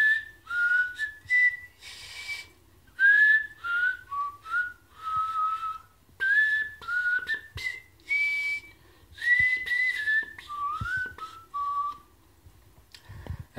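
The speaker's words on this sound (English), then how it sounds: "today we are learning a whistle that is called the palate whistle or the roof whistle." A person whistles using the roof of the mouth, no lips involved, producing clear, pure sliding notes in short melodic phrases with small pauses between them, close and fairly soft.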